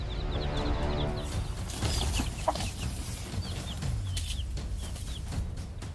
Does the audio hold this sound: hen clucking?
yes